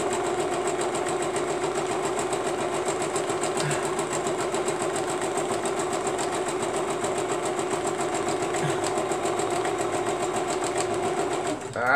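Sewing machine stitching fabric in a steady, continuous whir of rapid needle strokes, close and loud throughout with no talk.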